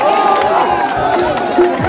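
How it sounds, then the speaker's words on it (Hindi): A large outdoor crowd at a public political rally in Mankhurd Shivaji Nagar, Mumbai, cheering and shouting in a loud, sustained swell with scattered whoops and a bit of clapping mixed in, along with some voices. "ताली बजाने वाली बात है कि नहीं है भैया?"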